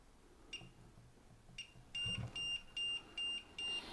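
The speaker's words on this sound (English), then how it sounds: "hold it down until you hear 2 beeps, and they're going to happen really fast." Several short, high electronic beeps sound in quick succession, clear and fairly close, after a couple of fainter beeps earlier, from a Zooz Z-Wave Plus Titan water valve actuator (ZAC36) during setup.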